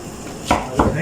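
A big onion is chopped for a creamy garlic sauce, with two sharp, close knife chops on a board against a quiet background.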